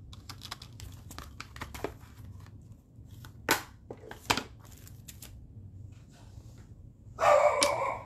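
Pet dogs bark a few times in a craft room, short sharp barks partly under the crinkling and rustling of paper being handled nearby, with one louder noisy burst near the end.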